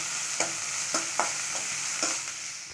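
Oil sizzles steadily in a hot pan as chopped onions and green chillies sauté, while a utensil scrapes through them in several sharp, irregular stirs.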